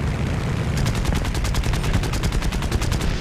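Rapid machine-gun bursts fire at ground units in the War Thunder combat game, a loud, dense stream of evenly spaced shots sustained through most of the moment with a steady roar beneath.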